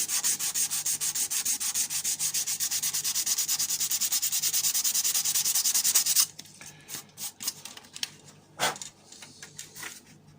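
Sandpaper rubs back and forth over the plastic body of a Nerf blaster in fast, even strokes for about six seconds, then gives way to a few slower, lighter scrapes and knocks, close up and with no talking.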